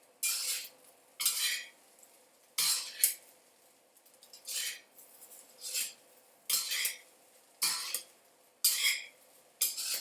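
Cantonese-style fried rice with vegetables being stirred and tossed in a pan: repeated scraping, clinking strokes of a utensil against the metal come in a steady rhythm about once a second, close and clear, with no talk.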